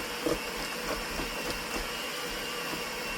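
An electric mixer creams butter, margarine and sugar for cookies, a steady whirring motor hum with faint rhythmic knocking as the beaters turn, continuous and fairly close.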